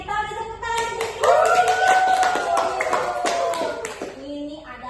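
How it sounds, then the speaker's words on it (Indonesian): Short burst of classroom clapping from a primary school class, scattered claps under a child's sustained sung or spoken voice, fading out after a few seconds. "Tepuk tangan sedikit."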